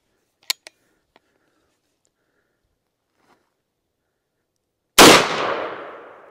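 A single sharp, loud gunshot from a .357 Magnum 16-inch carbine firing Federal 125-grain ammunition cracks out near the end and decays into a ringing tail, after a few small clicks.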